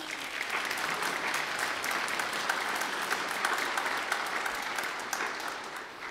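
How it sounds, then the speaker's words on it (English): Applause from a church congregation during a Sunday service, a broad, even rush of many people clapping at moderate volume, sustained throughout with no speech over it. "can we give them a round of applause?"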